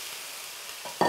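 Chanterelle mushrooms frying in a well-heated pan give a faint, steady sizzle, ending in a short louder burst of sputtering.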